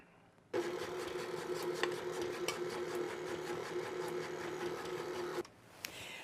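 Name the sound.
electric stand mixer beating pound cake batter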